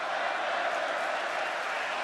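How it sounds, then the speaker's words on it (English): Wrestling arena crowd at WrestleMania 33 cheering for the Undertaker during his match with Roman Reigns, a dense steady roar of many voices filling the whole moment without a break. "Fans trying to cheer the Undertaker."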